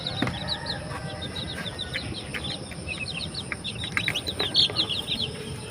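Chickens cluck and chirp throughout inside a home chicken house. Short repeated calls overlap against a steady rustling background noise at moderate volume.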